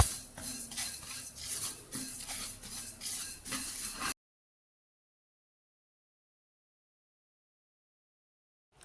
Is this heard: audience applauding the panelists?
no